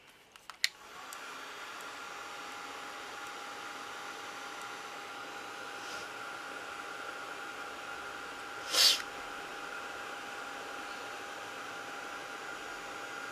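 A hair dryer blows steadily on wet poured paint, a constant close whoosh that starts after a few clicks and runs without a break. A brief louder puff or sniff cuts in partway through.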